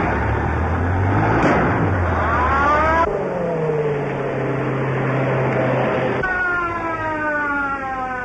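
Car engine in an old film serial chase scene, a steady revving drone with rising and falling pitch sweeps as the vehicle speeds along, continuous and fairly loud with no talking.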